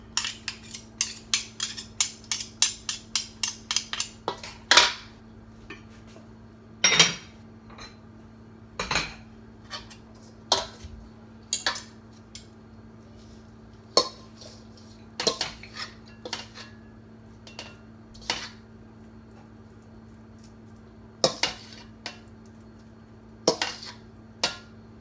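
Scraping clinks and knocks of a utensil against dishes as an oil-free vegan Asian coleslaw is moved into a serving bowl. A rapid cluster of taps at the start, then scattered separate clacks, close and clear, with no talking.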